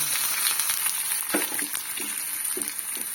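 Onions frying in a pan with curry leaves for a drumstick leaf stir-fry, a steady close sizzle with soft stirring scrapes and small crackles throughout, no talking.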